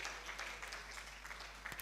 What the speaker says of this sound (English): Please put your hands together as he comes forward.